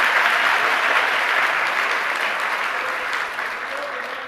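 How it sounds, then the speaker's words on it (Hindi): A seated audience at a Jain religious discourse applauds, a dense, steady wash of clapping that stays loud throughout and fades slightly near the end. "ये हमारे आप लोगों के लिए तालियां हैं।"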